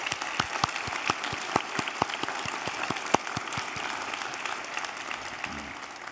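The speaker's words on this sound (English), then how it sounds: "give yourselves a round of applause" Audience applause for the graduating class at a Bellarmine University commencement ceremony, a steady wash of clapping with distinct sharper claps standing out rhythmically, moderately near and without talk.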